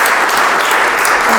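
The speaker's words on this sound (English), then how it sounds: "A round of applause, please." Audience applause at a maritime industry talk event, a dense, steady wash of many hands clapping at close range, filling the whole short moment without voices on top.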